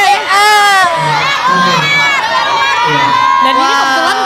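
A school class of children cheering and shouting excitedly during a gobak sodor game at an Indonesian Independence Day event, a loud continuous crowd din of overlapping young voices with shrieks rising and falling throughout.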